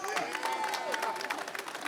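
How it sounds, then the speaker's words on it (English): Audience applause and scattered cheering from a crowd at a gun-rights lobby day rally, a steady wash of clapping held at moderate level throughout, with some voices mixed in. "That applause is for you"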